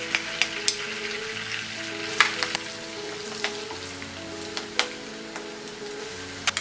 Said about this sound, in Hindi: तेल और बटर गरम हो गया है। अब हम इसमें डालेंगे ये 1 टीस्पून जीरा, ग्रीन चिली